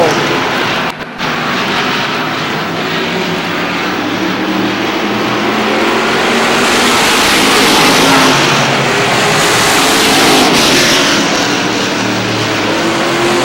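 Race cars roar around the oval at Star Speedway in New Hampshire during a close three-car battle for the lead late in the race, a loud, steady engine drone with rising and falling passes throughout.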